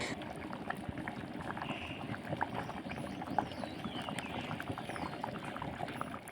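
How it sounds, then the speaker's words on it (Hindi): Khichdi, a rice porridge, bubbles at a steady rolling boil in a pot in a village kitchen, a continuous dense gurgle with small pops, close and without voices. "खिचड़ी जो है अच्छी तरह से उबलने लगी है"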